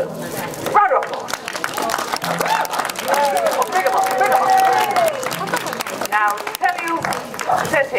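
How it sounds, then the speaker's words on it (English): Crowd applause for the Morecambe Brass band at Kirkby Lonsdale, with steady clapping under a voice speaking over it and a brief yelping sound mixed in. "Round of applause."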